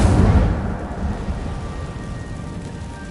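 An Incendio fire spell cast in Hogwarts Legacy bursts out with a loud rumbling whoosh at the start, then a rough roar that slowly fades.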